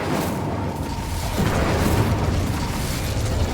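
A loud, continuous fiery blast from the Incendio fire spell in Hogwarts Legacy, a dense roaring burst that holds steady for several seconds with no pause.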